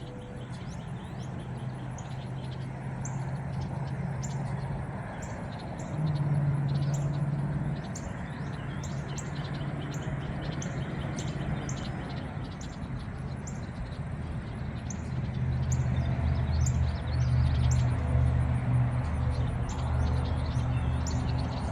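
Faint, high bird chirps from birdhouses in a Philadelphia suburb repeat in quick bursts over a low background hum and outdoor rumble, with no talking.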